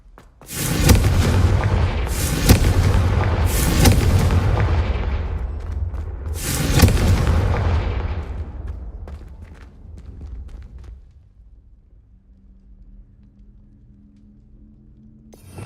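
Confringo fire-spell blasts in Hogwarts Legacy: four loud, sharp explosive bursts in the first half, each trailing off in a rumbling decay, then fading to quieter residual rumble and a low hum.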